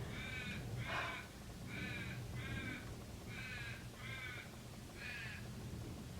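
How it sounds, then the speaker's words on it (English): A crow caws outdoors in a steady series of about seven harsh, evenly spaced calls at moderate distance over a low background hum. "Can you hear that crow?"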